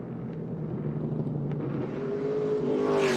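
A Toyota stock race car with a flat tire leaves a short-track oval at Colorado National Speedway during an ARCA Menards Series West race, its steady engine drone rising slightly toward the end, with no talk.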